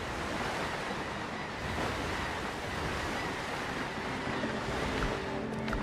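Large ocean waves surge and wash continuously in the sailing game Windrose, a loud, steady roar of surf with wind rushing over it and no voices.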